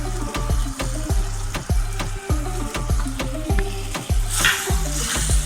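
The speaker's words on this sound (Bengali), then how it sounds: "দেখুন গ্রেভি ফুটে উঠেছে। এবার আমি ভাজা মাছগুলো দিয়ে দিলাম।" Fried shol fish is stirred into a bubbling Bengali gravy in a pan. A steady simmering sizzle runs under sharp, regular scraping knocks of the spoon, close and fairly loud, with no voices.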